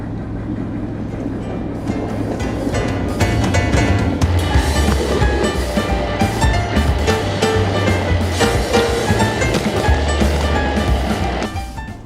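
A service train on a ride-on model railroad rolls past at a Central Pasco & Gulf Railroad winter meet, giving a steady rumble and clatter of wheels on track with a low engine drone, close and continuous.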